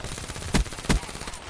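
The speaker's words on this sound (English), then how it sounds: "He's already shooting, too." Two sharp gunshots crack out about a third of a second apart during a Black Ops 3 multiplayer match, loud and close, over a low steady game background with no one speaking.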